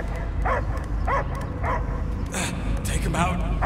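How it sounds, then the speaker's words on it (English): A dog in the video game Marvel's Guardians of the Galaxy barks and yips in several close, repeated bursts, with voices and game sounds around it. "I hear only barking."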